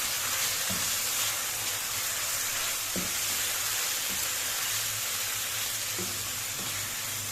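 Beef pasanday fries in a pan with a constant close sizzle, while occasional stirring knocks and scrapes come through every second or two; no talk.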